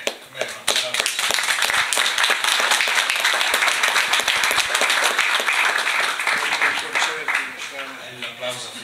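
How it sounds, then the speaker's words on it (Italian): At a book presentation, an audience gives dense, sustained applause close by, with voices under it near the end. "L'applauso finale."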